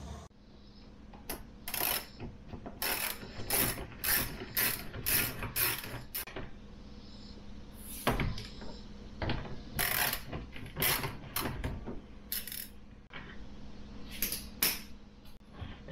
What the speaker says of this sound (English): we're going to start with all the 10 millimeter bolts